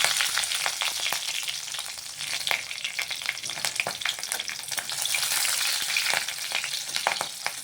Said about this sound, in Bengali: দেখুন জিরেটা ভাজা হয়ে গেছে